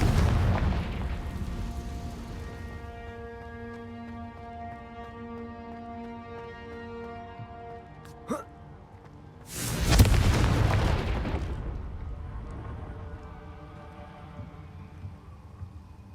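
A Confringo spell explosion in the video game Hogwarts Legacy: a sudden loud boom with a rumbling tail, heard alone after a sustained tonal drone and a brief sharp crack.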